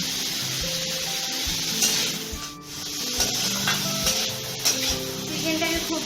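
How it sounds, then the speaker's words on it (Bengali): Chicken sautéing in a pan, a steady loud sizzle throughout with occasional stirring scrapes and clicks, close up. "চিকেনটাকে খুব বেশি ফ্রাই করা যাবে না, চিকেনটাকে জাস্ট একটু সটে করে"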